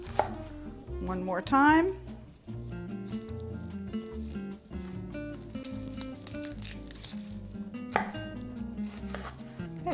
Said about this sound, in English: cut it in half, cut it in quarters.